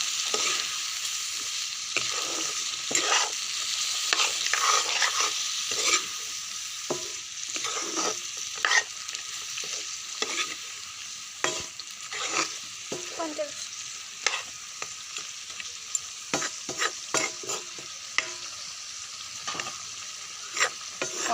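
Duck meat stir-fried in a pan gives a steady sizzle under frequent, irregular scraping and clattering strokes from a spatula stirring the meat. The stirring runs the whole time, with no talking.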